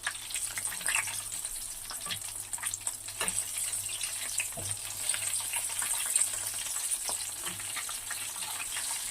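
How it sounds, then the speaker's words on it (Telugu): Potato-stuffed chili bajji fry in hot oil with a steady, soft sizzle and bubbling, heard close and constant with occasional light clinks, no voices. "మళ్ళీ ఇలానే ఫ్రై చేసేసుకోవాలి."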